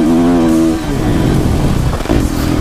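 A 2016 450 Kawasaki KX-F or 350 Husqvarna motocross bike with a new four-stroke engine revs loudly, a droning pitch then rougher acceleration roar heard close up from the rider's test ride.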